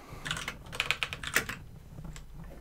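A burst of quick keystrokes on a computer keyboard, about a dozen crisp clicks in an uneven run, fairly close but quiet, followed by near silence.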